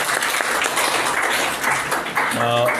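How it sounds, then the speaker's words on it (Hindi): A seminar audience at a freelancing workshop gives a sustained round of applause. The dense clapping stays loud throughout, and a voice briefly rises near the end. "मैडम के लिए एक भरपूर तालियाँ हो जानी चाहिए।"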